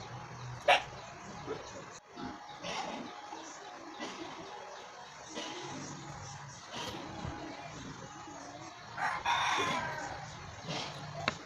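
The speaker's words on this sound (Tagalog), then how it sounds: "maraming aso, maraming manok." Roosters crow repeatedly while several dogs bark in the background, a busy outdoor animal chorus that continues without pause throughout.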